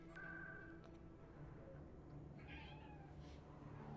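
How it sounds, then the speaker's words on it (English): A house cat meows in a room, a faint, short call near the start and a softer one about midway, both over a steady background hum. "Sorry, cat is in the room and door is closed."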